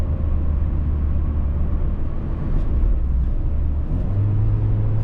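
A 2006 Mazda Miata Grand Touring NC drives at speed with the roof down, giving a loud steady low engine and road rumble blended with wind noise, shifting slightly in pitch toward the end.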